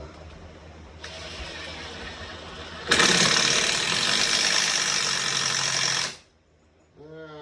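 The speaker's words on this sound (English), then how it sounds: "Grab my drill." A cordless drill whirs briefly, then revs loud and steady for about three seconds as it drives a screw into a 2x4 wall stud, stopping abruptly; a short squeak follows.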